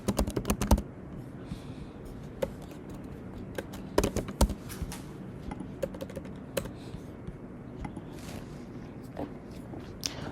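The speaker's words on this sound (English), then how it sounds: "type a password for root user" Password being typed on a computer keyboard during a PostgreSQL install on macOS: a quick burst of loud key clicks at the start, then scattered softer taps and a few sharper keystrokes over a quiet room hum.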